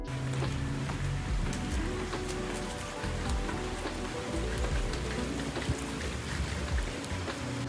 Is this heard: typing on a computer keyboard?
no